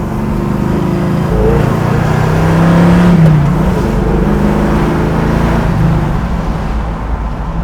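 A 1969 Chevy Camaro V8 running close by, a loud steady idle that rises into a revving swell around the middle and then settles back to a rumbling idle.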